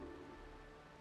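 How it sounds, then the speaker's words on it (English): Rain falls in Honkai Star Rail as a dense, steady wash of patter, continuous and even, close and fairly full with no voices. "This is the sound of rain."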